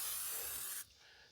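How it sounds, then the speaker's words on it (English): A can of Pam olive oil cooking spray lets out one steady, close hiss onto St. Louis style spare ribs for a Weber kettle grill. The hiss cuts off abruptly after under a second. "we're gonna spray it down with some olive oil"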